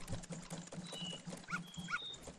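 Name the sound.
dog barking in Majora's Mask video game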